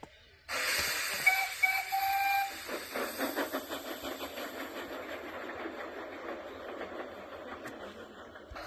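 A train whistle sounds near the start. Steady hissing steam and a rhythmic chuffing follow as two steam engines pull away with their coaches.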